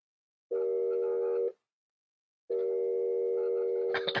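A telephone left off the hook gives out its steady dial tone, two sustained bursts of about one second each separated by silence, fairly loud and close, with a brief clatter at the end.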